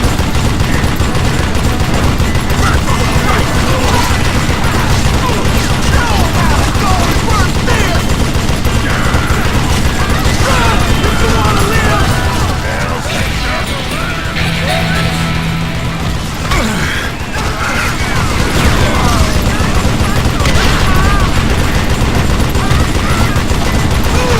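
Gunfire from the Western shooter game Call of Juarez: Gunslinger, a loud, dense barrage of repeated shots and crashes over music and ambience, continuous with a short dip midway before the shooting surges again.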